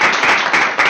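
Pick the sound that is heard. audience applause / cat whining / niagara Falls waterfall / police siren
audience applause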